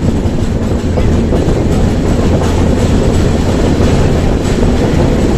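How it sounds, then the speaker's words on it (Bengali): The Coromandel Express passenger train runs past Balasore station in India, heard from on board as a loud, continuous rumble with rhythmic clickety-clack of wheels over rail joints and no voices. "এই দেখো, বালেশ্বর স্টেশন পেরিয়ে যাচ্ছি আমরা।"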